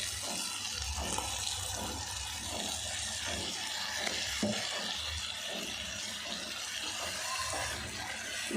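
Tomato puree frying in a pan for egg masala curry, a steady close sizzle and bubble with rhythmic stirring scrapes throughout, no voices.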